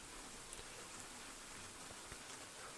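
Steady rain falling outdoors in the game Cemetery Mary, a dense, even hiss of drops with a few faint patters on top, constant throughout with no voices.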